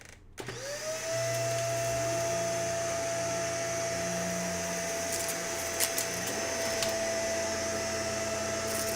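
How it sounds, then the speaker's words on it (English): An upright vacuum cleaner with a suction fault switches on and spins up to a loud, steady whine, running continuously at close range with a low motor drone beneath. "Let's turn this on and see if we can vacuum again."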